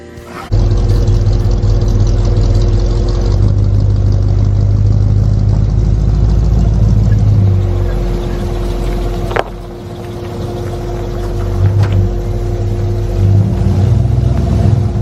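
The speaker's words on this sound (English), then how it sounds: "So we'll be driving this old 71 today, all the way to great city of Detroit." Engine of a 1971 Chevy truck while driving in a snowstorm: a loud, steady low drone with a constant whine, easing briefly midway then building again, heard from inside the cab.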